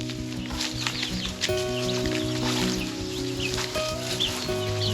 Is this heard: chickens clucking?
yes